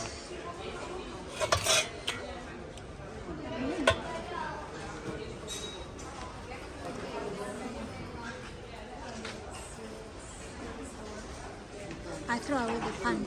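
Pots and pans clink and clatter as they are handled on store shelves in an IKEA kitchenware section, a few sharper knocks standing out amid steady shopping-floor chatter and background bustle.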